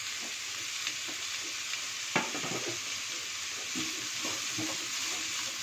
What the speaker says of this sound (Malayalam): ക്യാപ്സിക്കവും ചേർത്ത് നന്നായിട്ടൊന്ന് വഴറ്റിയെടുക്കാം